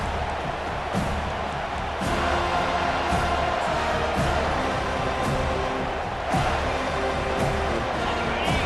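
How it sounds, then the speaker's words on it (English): Stadium crowd noise in EA Sports College Football 25, a loud, continuous roar from the stands that swells and dips over a steady low rumble. "This crowd trying to make life miserable for this offense."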